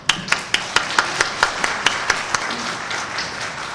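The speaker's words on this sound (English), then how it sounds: "Ladies and gentlemen, let's applaud that." An audience at a government finance ceremony claps in a short round of applause, the sharp claps spaced fairly evenly before fading out.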